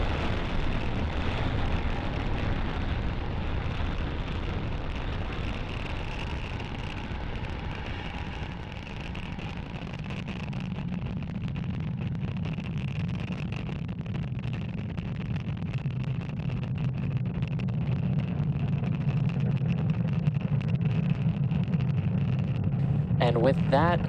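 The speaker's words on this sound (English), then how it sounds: "with that successful liftoff of our Starlink satellites on our Falcon 9 vehicle" A SpaceX Falcon 9 rocket lifting off with Starlink satellites: a sustained, heavy low roar and rumble that holds steady for over twenty seconds, with announcers talking over it.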